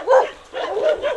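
A dog barks near a hiking trail in the Guguan mountains of Taiwan, giving three quick, loud, close bow-wow barks in a short burst.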